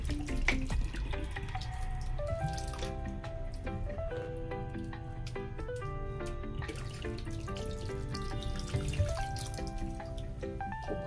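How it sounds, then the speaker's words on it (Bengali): Cold tap water runs steadily into a vessel while fresh chhana curd is washed to rinse out vinegar for chom chom sweets, a continuous splashing flow with faint clinks, no talking. "এবারে এই যে ছানাটার মধ্যে আমি এবার ঠান্ডা জল দিয়ে ভালো করে ধুয়ে নেব।"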